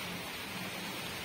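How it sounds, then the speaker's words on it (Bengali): Rain falls heavily over a flooded rooftop and yard during an all-day downpour, a dense, even hiss with no individual drops standing out. "এই যে বৃষ্টি"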